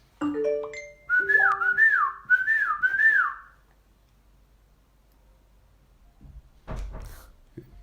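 A person whistles a short rising-and-falling signal twice in quick succession, clear and close, followed by quiet and a faint knock.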